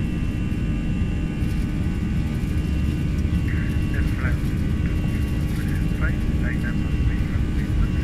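Airbus A319 engines spool up to takeoff thrust in a flight simulator, a steady, loud, broadband roar with a deep rumble that holds level throughout, with faint voice-like chirps above it.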